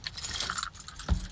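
Keys jingle and clink close by in a short rattling burst, ending with a soft thump.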